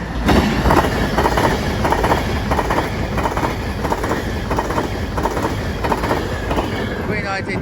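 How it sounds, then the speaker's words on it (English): An Avanti West Coast train from London Euston to Blackpool North passes at Crewe on the West Coast Main Line, with rhythmic clickety-clack of wheels over rail joints and a steady rumble, close and loud, under some background speech. "As behind me, the Atlantic West Coast service from London Euston to Blackpool North."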